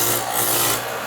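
Radial arm saw pulled through wood while cutting a dado, a loud, continuous rough rasping and grinding roar, close and sustained for about a second.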